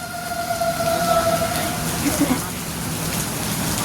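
Steady rain patters on a surface, with a faint wavering tone briefly audible in the background early on.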